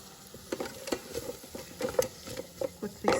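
Garlic and finely chopped green chilies are sautéed in a pan, soft irregular stirring scrapes and light pattering taps over a faint low sizzle, close and fairly quiet.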